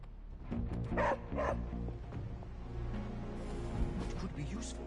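Charlie, a puppy in the video game Marvel Midnight Suns, gives a couple of quick yipping barks close up, heard over game music and ambient sound while a character talks.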